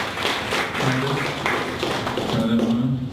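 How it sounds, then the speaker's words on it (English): Scattered clapping from a small audience at a tech meetup talk, welcoming a startup co-founder to the stage; a steady patter of hands runs through the whole stretch while a voice talks over it. "let's give Henry a big round of applause"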